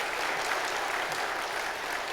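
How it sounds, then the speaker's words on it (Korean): A church congregation at a Sunday worship service claps in sustained, dense applause, an even wash of many hands filling the room without pause and without speech. "우리 박수 한 번 더 하겠습니다."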